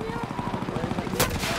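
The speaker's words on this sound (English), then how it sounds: "Hold on, I'm getting shot at." Rapid automatic gunfire in a video game, a fast rhythmic burst of shots lasting over a second, heard close with a sharper crack near the end.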